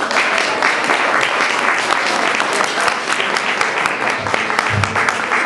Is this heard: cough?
no